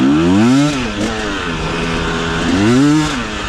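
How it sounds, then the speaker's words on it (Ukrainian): A KOVI 300 Pro two-stroke enduro motorcycle engine revs loudly up and down twice, a buzzy high-pitched whine rising and falling, close by with no talking. "А ну дамо газу, на двохтактніку звук оцей"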